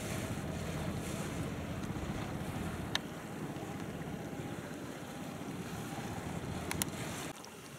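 A small fishing boat on the Hau River passes under steady wind and water wash, a continuous broad rumble with a couple of brief sharp knocks, no voices.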